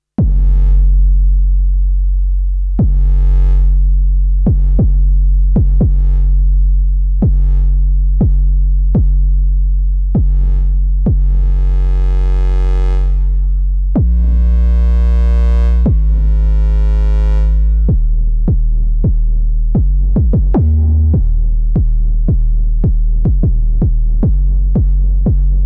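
An 808-style trap kick from a Korg Opsix synthesizer with reverb booms as deep, sustained tonal hits in a repeating rhythmic pattern, with pitch changes partway through, loud and alone with no talk.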